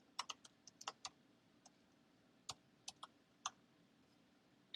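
Keys clicking on a computer keyboard as a server address is entered, a short scatter of separate taps with small pauses between them, close and quiet over faint background hiss.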